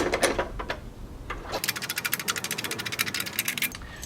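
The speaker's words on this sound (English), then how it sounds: "use your ratchet or a ratcheting wrench to take them out the rest of the way." Ratchet wrench backing bolts out of a boat's mounting plate during a Power-Pole install, a close, fast run of rapid clicking that speeds into a steady ratcheting burst, no voices.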